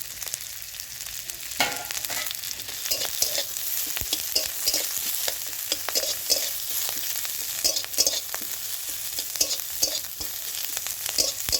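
Chopped garlic and chili hit a pan with onion, giving a steady, close sizzle of frying with repeated scraping stir clicks throughout and no talking.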